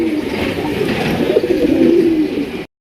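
Domestic Rasgola pigeons coo steadily and close, a low throaty rolling murmur that continues for a few seconds before cutting off.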